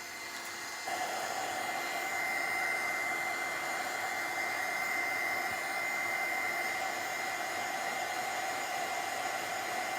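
A hair dryer runs continuously to dry a watercolor craft project on an antique wooden box, producing a steady, faint airy whir that steps up slightly in strength after the first second and then holds constant, with no talking.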